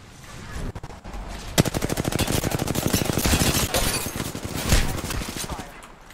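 Rapid automatic gunfire in the Apex Legends video game, a dense, loud, sustained burst of shots lasting several seconds that fades toward the end.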